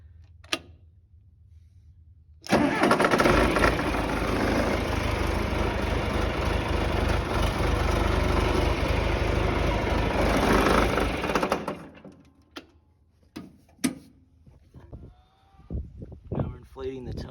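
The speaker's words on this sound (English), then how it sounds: "Inflating the tire." An air compressor inflating a car tire, a loud steady hissing drone running continuously for about nine seconds before cutting off, followed by softer handling noises and brief talk.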